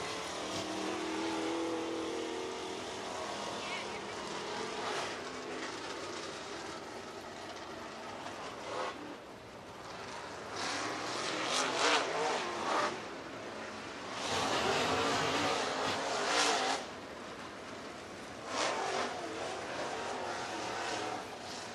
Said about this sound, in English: Waiting on cars rolling on to the Speedway